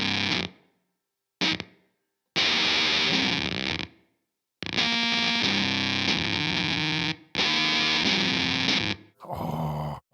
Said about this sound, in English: what you're hearing is me playing through the final finished production version of this pedal